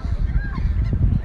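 Seagulls at the seaside in Busan, South Korea, give a couple of short honking calls over a rumbling background of wind and waves.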